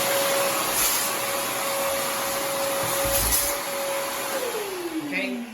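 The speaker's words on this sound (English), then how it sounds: "you wanna come with your vacuum. You want to vacuum in there" A vacuum cleaner runs loud and close, drawing up cement particles from bathroom tile, a steady whine with a whistling tone that dips and bends near the end as the nozzle shifts.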